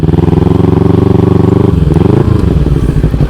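Close, loud motorcycle engine idling with a steady rapid thumping beat while being parked by a temple under a tree, the revs dipping and shifting partway through.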